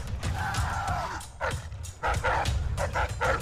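Dogs in Dishonored: Death of the Outsider give a run of short barks and yips, some with a whimpering edge, fairly close, over low background game ambience.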